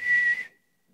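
One short, clear, high-pitched whistle called out to a dog, lasting about half a second before fading into silence.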